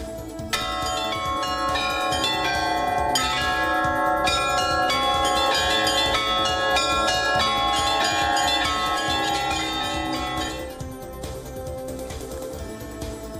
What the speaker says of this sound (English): these ancient bells are being remade with the help of 3D scanning technology and digital reproduction